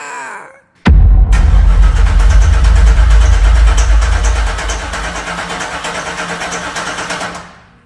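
A 1996 Chevrolet Impala SS, unstarted for 11 years, cranks with a sudden loud onset, then a steady rapid chugging that fades toward the end without catching.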